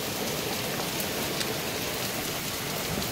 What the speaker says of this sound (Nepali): मुसलधारे पानी पऱ्यो